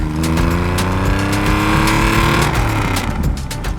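A 1984 Porsche 911 Carrera SC RS flat-six engine runs loud and close, a steady sustained roar with a slight shift in pitch near the end and no voices.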